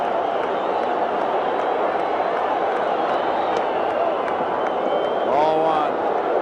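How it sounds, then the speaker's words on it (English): A baseball stadium crowd on its feet in the 9th inning sends up a dense, steady roar that swells briefly near the end. "The crowd will pretty much tell you what's happening in this 9th inning."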